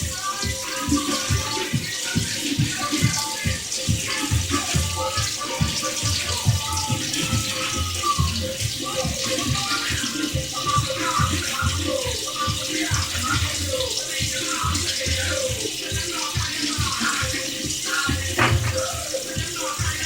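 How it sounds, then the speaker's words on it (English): Whiting fish is rinsed under a running kitchen tap, with water splashing steadily and in close, rhythmic surges for the full twenty seconds. "And then I'm gonna rinse it and just put it in my pot."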